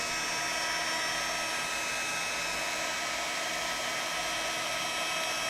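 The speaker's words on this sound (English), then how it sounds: "Now I'm heating this from the back." A heat tool blows onto the back of a craft card, a loud, steady whirring blast that holds unchanged from start to finish at close range.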